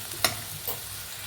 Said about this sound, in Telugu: దొండకాయ ముక్కలు మీడియం ఫ్లేమ్ మీద మనం మగ్గించుకోవాలి.